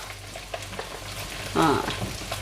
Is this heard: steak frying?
yes